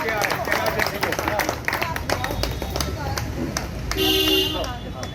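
Scattered clapping from an audience at a residents' association flag-hoisting ceremony, rapid overlapping claps under a voice speaking over a loudspeaker.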